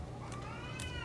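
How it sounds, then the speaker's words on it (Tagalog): A cat meows twice in quick succession, faint and short, indoors against a low background hum. "Napakaingay ang ating pusa."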